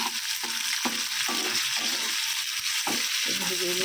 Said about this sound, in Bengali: পেঁয়াজটা লাল লাল করে ভেজে নিই।